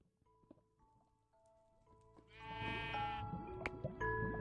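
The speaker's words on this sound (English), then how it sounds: "I just heard a sheep." A sheep in a video game bleats once, a clear wavering cry in the middle of quiet game sounds, with soft tones and footsteps around it.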